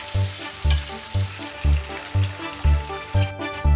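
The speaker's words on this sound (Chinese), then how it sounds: "泥鳅清洗，去除粘液，下锅煎至金黄备用" Cleaned loaches, slime removed, pan-frying until golden, with a steady sizzle and regular soft thumps about twice a second as the fish are stirred or turned in the pan.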